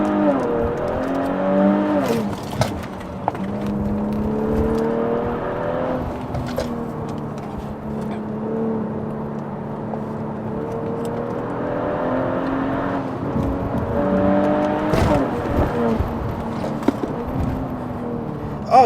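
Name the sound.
Kia Stinger GT engine revving high on a downshift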